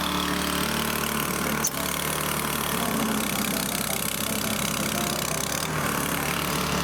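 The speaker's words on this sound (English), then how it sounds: "Okay, we've got the snowblower going." A snowblower engine runs outdoors in winter, giving a continuous loud, close mechanical drone that stays steady throughout with only a brief dip.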